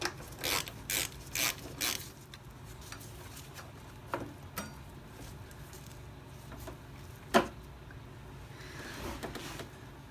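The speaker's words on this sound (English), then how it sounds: "We're then going to loosen here, again same 12 socket" A ratchet wrench with a 12 mm socket loosens bolts on a motorbike front wheel, with a quick run of clicking bursts at the start, then sparse metallic clicks and one sharp knock under low workshop quiet.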